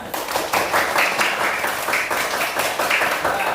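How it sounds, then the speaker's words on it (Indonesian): Steady applause from a crowd of schoolchildren in a classroom, dense clapping filling the whole stretch at an even, fairly loud level with no voices on top. "kasih tepuk tangan kita semua ya"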